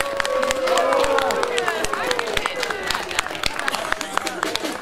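Crowd at a Sinterklaas street event in Emden breaking into applause, a dense wash of clapping with scattered sharp claps and cheers over general hubbub, voices murmuring throughout.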